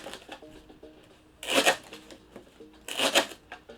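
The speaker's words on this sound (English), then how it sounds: "I just get one of these long blades, and I just cut it like this." A long blade cutting through cloning collars in two quick bursts of crisp slicing and rustling, close by, separated by quiet pauses.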